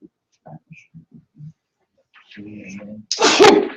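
A loud, close sneeze bursts out after a few soft murmurs and a quick breathy inhale.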